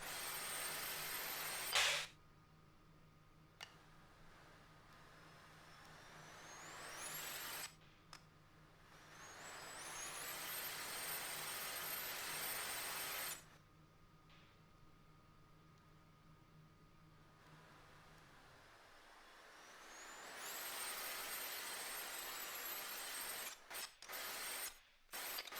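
A turbocharged small ute engine in the Automation game revs up repeatedly, each rising whine climbing in pitch and then cutting off, with quiet idle stretches between the loud bursts.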